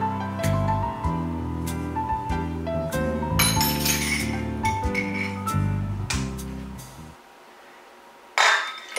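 Butter and salt being mixed in a glass bowl for pain au chocolat dough, with repeated bright clinks of a utensil against the glass over steady background music that cuts out near the end.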